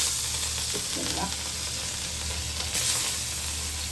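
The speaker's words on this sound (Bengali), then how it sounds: "এই যে তেল দিয়ে দিছি গরম হয়ে গেছে আর এটা দিয়ে দেবো মাছ" Katla fish frying in hot oil, a loud dense sizzle filling the whole short stretch, close and continuous, with a brief faint voice in the background.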